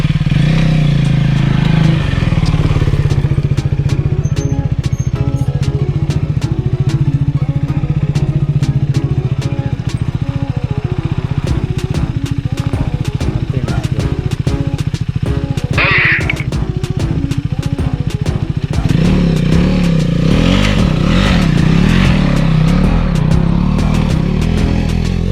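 A KTM 390 Adventure motorcycle riding uphill on an off-road trail: a loud, close engine drone with shifting revs and rattling, continuous throughout and heard alone without talk.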